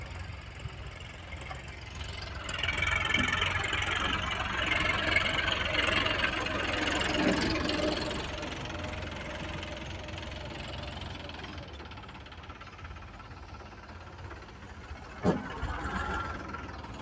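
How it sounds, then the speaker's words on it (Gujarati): Three tractors idling on a farm, a low steady engine rumble with a knocking throb that swells louder in the middle then settles, one sharp knock near the end. "માલદેભાઈ જો સર્વે કરે જોઈ લો 3 ટ્રેક્ટર"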